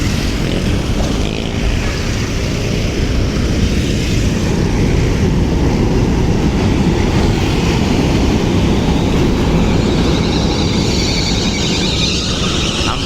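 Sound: passing train

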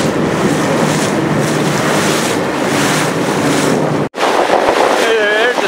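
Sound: boat moving through choppy river water

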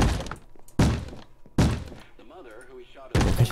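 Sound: locked door thudding in Minecraft horror mod, video game

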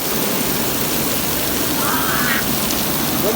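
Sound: heavy rain

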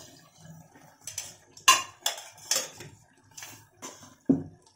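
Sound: stirring tomato chaat in a pan

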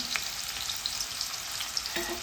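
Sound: chopped onion and garlic frying in hot oil

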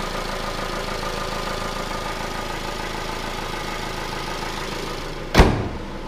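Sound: 2015 Jeep Renegade Trailhawk 2.4 liter engine running

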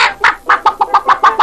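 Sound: old hen clucking in a cartoon

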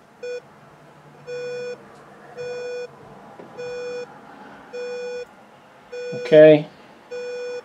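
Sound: Arduino Nano pulse induction metal detector audio tone on target

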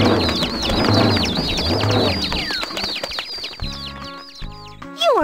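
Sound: birds chirping in video game JumpStart Preschool

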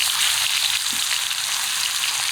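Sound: hilsa fish tail pieces frying in oil

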